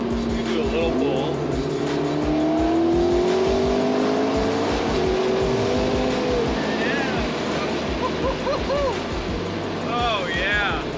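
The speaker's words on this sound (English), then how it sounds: "this thing revs out all the way to 9K" A tuned McLaren MP4-12C making about 750 wheel horsepower revs hard under acceleration, its engine note climbing in long loud sweeps through the gears with tire and road roar, while people talk over it.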